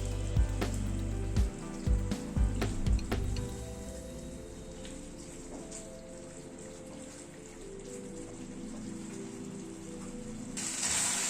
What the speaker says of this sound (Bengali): এবার গ্যাসের ফ্লেমটাকে মিডিয়াম টু হাইতে করে আর একটু কষিয়ে নিচ্ছি